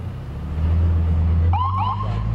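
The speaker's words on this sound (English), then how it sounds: "Russ and Sine, an ambulance is just leaving the scene here in DeKalb County" An ambulance siren starts wailing partway through as it leaves a police shooting scene in DeKalb County, rising warbles over a loud, low vehicle rumble close by.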